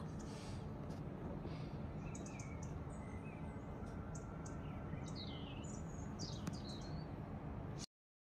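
Small birds chirp faintly outdoors, scattered short tweets over a steady low background hiss, fairly distant and quiet.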